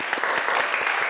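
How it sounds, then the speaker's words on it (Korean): Audience at a university architecture lecture claps briskly, a short burst of many hands with a few sharper individual claps standing out. "여러분 큰 박수 부탁드릴게요."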